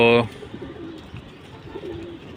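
Pigeons in a loft give soft, low cooing calls in short repeated bursts, fairly faint against room noise, after a brief louder tonal sound at the start.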